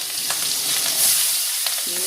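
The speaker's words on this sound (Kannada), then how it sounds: "ಈರುಳ್ಳಿ ಹಾಕಿದ ಮೇಲೆ ಸ್ವಲ್ಪ ಫ್ರೈ ಮಾಡಿಕೊಂಡ್ರೆ ಸಾಕು" Onion sizzles in a hot pan with curry leaves, cumin, ginger and green chili, a steady bright crackle with a few stirring clinks, continuous and close.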